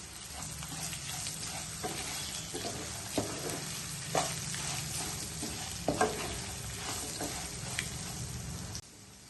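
Raw banana pieces fry and sizzle steadily in a hot pan with a little salt, chilli powder and turmeric, with occasional clinks and scrapes of a spoon stirring them over the constant crackle.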